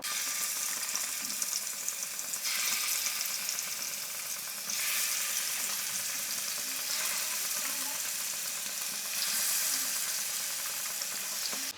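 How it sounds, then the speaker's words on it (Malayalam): Loud, steady sizzling of chicken frying in hot oil, a dense crackling hiss that swells in waves, close up with no talking. "എണ്ണ ചൂടായിട്ടുണ്ട് നമുക്കിനി ചിക്കൻ പീസ് വെച്ച് കൊടുക്കാം"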